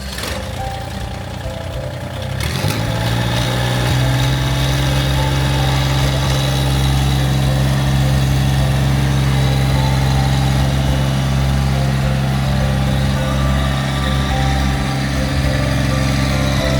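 A Massey Ferguson GC1725 compact tractor engine starts up and runs steadily, a loud continuous low rumble with a constant hum close by.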